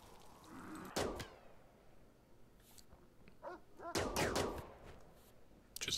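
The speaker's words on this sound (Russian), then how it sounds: "Что за выстрелы?" Two sharp gunshot-like cracks in RimWorld a few seconds apart, loud and close, over a low ambient background with faint scattered noises between them.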